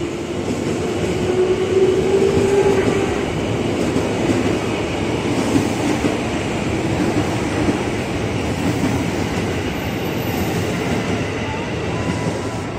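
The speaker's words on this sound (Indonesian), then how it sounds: "Jalur 11 berangkat nih komuter yang tujuan Jakarta Kota." A KRL commuter train on the elevated line at Manggarai, Jakarta, bound for Jakarta Kota, rumbles steadily close by, wheels clattering on the rails with a faint squeal early on as it pulls away.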